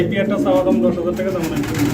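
Pigeons coo low and throaty in a breeding coop holding a male and female pair, mixed under someone talking nearby.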